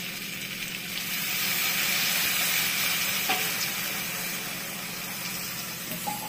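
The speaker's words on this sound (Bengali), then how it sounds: "এখন আমি জল দিয়ে দিচ্ছি।" Bitter gourd curry (korola jhol) sizzles and hisses steadily in a pan on a gas stove after water is poured in, a loud continuous frying wash with faint spoon clinks, no talking.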